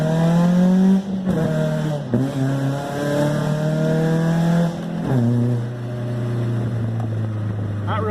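A Zetec-engined Ford Focus drives loudly nearby, its engine droning and revving up and down through several gear changes, a harsh continuous roar with no talk over it.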